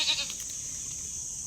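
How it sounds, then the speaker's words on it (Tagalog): A goat bleats briefly at the start, a short wavering cry, fairly faint against a steady high background hiss from an outdoor farm setting; no speech. "Marami na pala tayong kambing."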